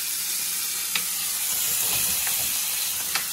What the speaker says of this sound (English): We got the chiles boiling.